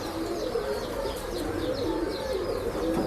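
Breeding pigeons coo at a pet shop in Bangalore, a continuous chorus of soft, throaty coos with faint chirps from several birds close by.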